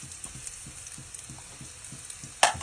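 Onion and garlic sautéing in a pan, with a quiet, steady sizzle and soft rhythmic tapping. It ends with one sharp clink of a utensil.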